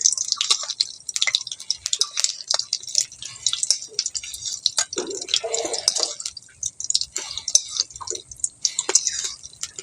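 Palm fruit pitha frying gently in oil over low heat, giving a close, steady patter of fine crackles and small pops that continues throughout.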